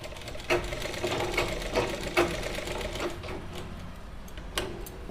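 A sewing machine stitching a salwar belt runs in a steady rapid mechanical chatter, moderately close, with a few louder clicks and knocks scattered through.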